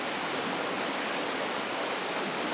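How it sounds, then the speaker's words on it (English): Floodwater in a swollen river rushes past in a steady, dense broadband roar, continuous and fairly close, with no voices. "There's a decent flow of water down here today."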